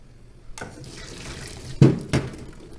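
Cold tap water running into a sink to cool freshly blanched seaweed, a soft steady stream starting after a moment, with a couple of louder splashes near the end.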